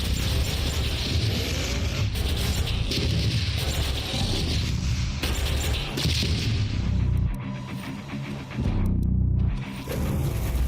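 Dense, loud Doom (2016) action with repeated booms and crashing bursts throughout as enemies disintegrate, a chaotic wash of impacts and effects, with a brief dip in the middle.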